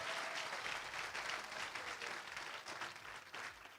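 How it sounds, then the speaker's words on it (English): Sustained applause from an audience at the Western States Endurance Run 2023 awards ceremony, a steady dense wash of clapping filling the whole stretch with no talk over it. "Let's give everyone a round of applause."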